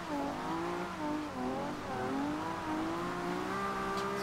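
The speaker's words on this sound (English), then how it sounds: "This car sounds absolutely insane." A Nissan Skyline 2000GTR in Forza Horizon 2 drifts with its engine wailing, the pitch rising and falling in quick waves as the revs swing, with no talk over it.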